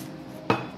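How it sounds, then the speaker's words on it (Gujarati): Ice dropped into a mixer jar for a chikoo milkshake gives a single sharp clack against the jar, set against a quiet background. "આ રીતે એમાં બરફ ઉમેરી દઈશું."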